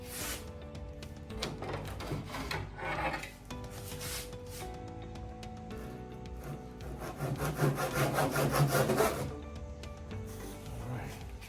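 Plywood being sawn to cut a slot for hinge bolts while building a 1030S airplane, with rhythmic rasping strokes that swell louder near the end, mixed with shop clatter and some talk.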